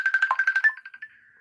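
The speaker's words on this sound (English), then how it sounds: "Oh, whose phone is that?" Mobile phone ringtone in a room, a bright electronic melody of rapid repeated pulsing notes that sounds clearly for about a second, then trails off into a faint held tone, with no voices over it.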